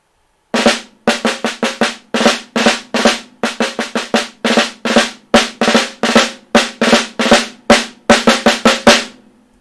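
Rapid snare drum strokes with open, distinct grace notes before each accent, played in a quick march-like pattern of ruffs, loud and close.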